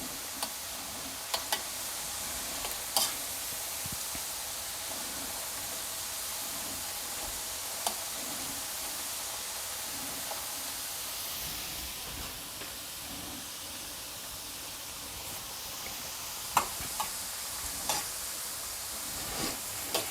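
French fries fry in hot oil with a soft, steady hiss and sizzle, dotted with faint scattered ticks and pops, quiet and continuous throughout.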